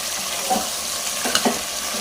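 Water goes into a hot pan of curry with oil, giving a steady sizzling hiss with a few small pops and splashes, close and fairly loud.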